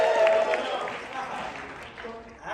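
Audience applause at a comedy news segment for Columbia Business School students, a steady dense clapping wash that peaks early and slowly thins, with faint voices mixed in.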